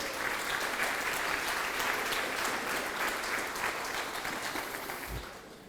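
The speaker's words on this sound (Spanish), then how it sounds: "A ver, dale un aplauso al Señor, por favor." A church congregation applauding together, dense and steady at moderate distance, fading slightly toward the end.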